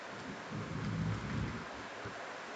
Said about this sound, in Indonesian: ya di sini hujan ya, sehingga sangat mengganggu